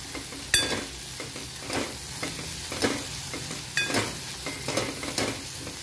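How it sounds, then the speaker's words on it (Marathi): Chopped fenugreek leaves fry in a pan, with a soft continuous sizzle broken by repeated scraping and stirring strokes of a spoon, close and fairly quiet. "ती मेथी पण आपण त्याच्यात छान फ्राय करणार आहोत"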